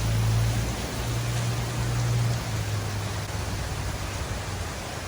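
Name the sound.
rain outside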